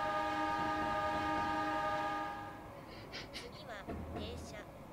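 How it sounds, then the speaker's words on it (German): Long, loud train horn from a Japanese train in the Densha de Go game on Switch, sounding steadily for about two seconds before fading into rolling rail noise while someone talks. "Direkt mal weghupen."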